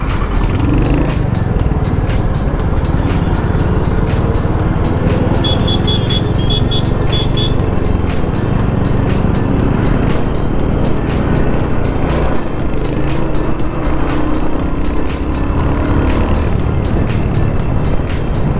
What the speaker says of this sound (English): I love Hunter's exhaust sound, man.